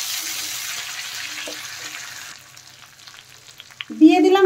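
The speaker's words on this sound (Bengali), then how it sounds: "দেখেন মশলা ভালোভাবে ভাজা হয়ে গেছে।" Spice paste of ginger and garlic fries in a pan for duck egg curry, giving a steady sizzling hiss that fades, then a clatter of stirring and a brief burst of noise at the end.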